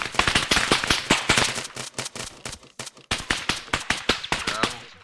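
Rapid gunfire from the military video game Arma 3, a dense run of sharp rifle shots and bursts cracking close and loud for several seconds, with brief gaps and a voice speaking between volleys.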